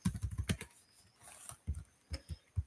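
Short bursts of computer keyboard keystrokes, crisp and close, tapped in quick runs with a brief pause midway while a ping command is entered at a command prompt; no voices.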